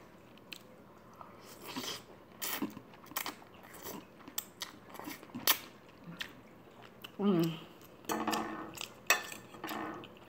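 Someone eats spicy Conecuh sausage during a mukbang, with close, wet chewing and biting sounds in irregular bursts alongside clinks of cutlery and dishes. The eating is fairly quiet, and brief bits of talk break in now and then.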